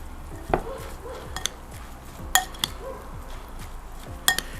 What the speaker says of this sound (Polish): I to wszystko mieszamy